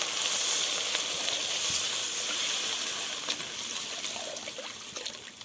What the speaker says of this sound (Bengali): দেখো বন্ধুরা আমার মশলাটা কষানো হয়ে গেছে একটু ঝোল দিয়ে দিচ্ছি